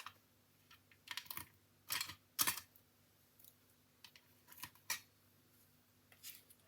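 Scissors snip out a vellum leaf piece for a handmade card, giving a few quiet, crisp cuts in short irregular bursts against a near-silent room.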